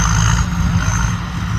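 A combine harvester engine with a tuned pump runs in a Thai field, a loud, steady, close, low droning roar with no pauses.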